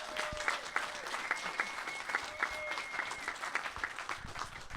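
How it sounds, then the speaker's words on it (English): An audience at a liberty forum panel gives a modest round of applause, a steady patter of claps from a smallish crowd that carries on throughout at moderate volume. "So I think we're going to give him a little round of applause today."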